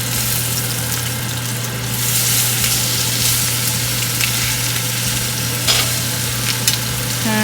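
Chicken thighs fry skin-side down in a pan, producing a continuous sizzle with light crackle and a steady low hum underneath, close and even throughout.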